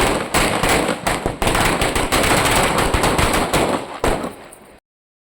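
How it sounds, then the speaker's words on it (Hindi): Diwali firecrackers set off outdoors during a home celebration: a rapid, dense barrage of loud crackling bangs, near and continuous for almost five seconds before cutting off abruptly. "और फाइनली आ गई थी इनके पटाखों की बारी।"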